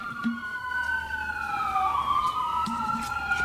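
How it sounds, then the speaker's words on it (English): Emergency sirens wail in the background, a steady two-tone rising and falling whine at moderate distance that carries on without pause. "The sirens going off in the background."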